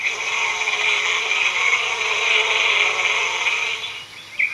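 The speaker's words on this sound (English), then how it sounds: "A buzzing from the hollow of the tree means bees have made this their home." Steady, loud buzzing from insects inside a hollow oak tree, continuous and even throughout without pauses, with no voices.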